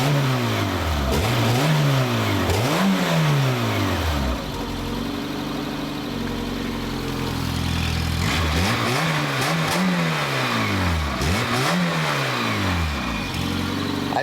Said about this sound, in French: On va écouter un petit peu le moteur.